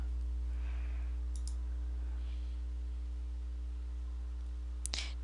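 A computer mouse gives a single crisp click near the end after a short faint tick earlier, quiet against a steady electrical hum, with no talking.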